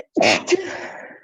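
A single sudden sneeze, close and fairly loud, bursting out in one sharp exhale during an otherwise quiet moment in a coaching session.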